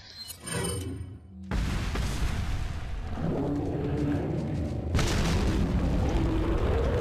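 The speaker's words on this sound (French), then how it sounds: "Et on va lui lancer une grenade." A grenade blows up in the video game Resident Evil 4, a loud, booming blast followed by a sustained rumble and a second heavy burst a few seconds later.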